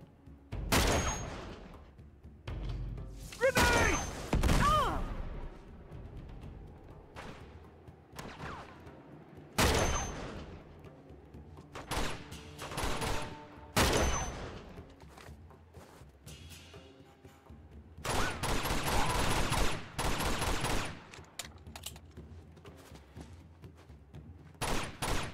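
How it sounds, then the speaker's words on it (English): Gunfire in Uncharted 2: Among Thieves comes in repeated sharp bursts and single shots spread across the stretch, some loud and close, with quieter rattling volleys between and a dense fusillade near the end. "What the hell are you shooting at, bro?"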